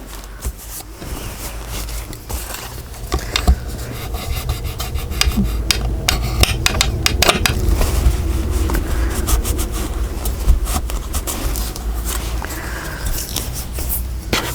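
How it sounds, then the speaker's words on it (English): A continuous dry rubbing and scraping sound comes from burnishing a score line on a paper book cover over chipboard, with close, rhythmic strokes that run for the whole stretch. "But burnish in that score line and pull it out."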